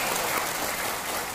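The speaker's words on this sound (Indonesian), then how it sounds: "Boleh tepuk tangan buat para pendiri kita." A crowd claps together in a brief, dense burst of applause, steady and fairly loud.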